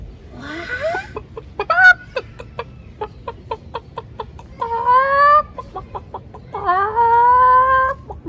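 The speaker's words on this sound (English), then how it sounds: "It's a chicken!" A farm chicken clucks in a rapid run of short, sharp notes, rising twice into longer drawn-out squawks, close and clear with no talking.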